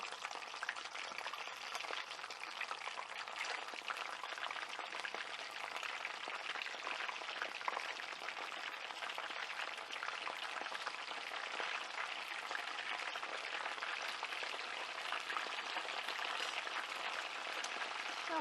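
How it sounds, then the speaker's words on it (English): Hot oil crackles and sizzles continuously and evenly as quail quarters fry for Korean dakgangjeong, a steady hiss with no voices. "now while that is frying up again"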